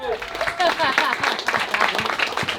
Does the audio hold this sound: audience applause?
yes